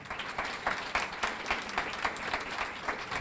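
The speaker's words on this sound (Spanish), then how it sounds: "El aplauso grande para Fabián de Besa" An audience at a journalists' panel on education in the media applauds a guest, moderate crowd clapping with a loose, slightly pulsing rhythm that carries on steadily.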